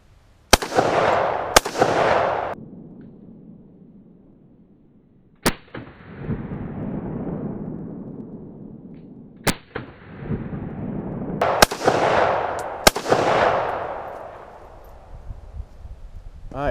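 Ruger Mini 14 ranch rifle firing .223 rounds outdoors: a string of sharp, loud cracks, several close together and others spaced a few seconds apart, each trailing off into a long rolling echo.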